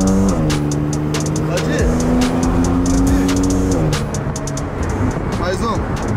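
A pink Porsche's engine revs up and climbs in pitch in the foreground, with people shouting encouragement over the continuous motor roar.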